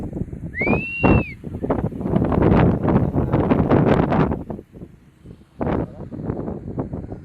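Gusts of wind at a private resort buffet the microphone in loud rumbling surges, dropping briefly before another blast, with a faint whistle early on.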